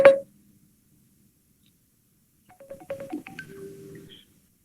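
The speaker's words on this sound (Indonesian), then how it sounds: "Maaf, ada telepon nih. Masuk ke sini." A phone rings during an online lecture: after a brief beep at the start and a pause, a short patterned electronic ringtone of rising and falling tones and a held note plays clearly, with no talking.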